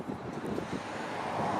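Steady wind along Lake Shore Boulevard East in Toronto's Port Lands buffets the microphone with low, rumbling gusts that swell slightly toward the end, with no voices present.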